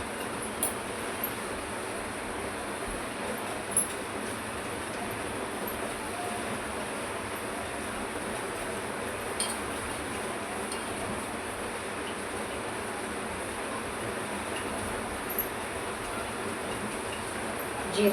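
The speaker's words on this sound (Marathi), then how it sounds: "त्याच्यामध्ये टाकणार आपण मोहरी. थोडी तळतळली की टाकू जिरं." Mustard seeds spluttering in hot oil in a home kitchen, a steady dense crackle and hiss that runs evenly throughout with a few sharper pops.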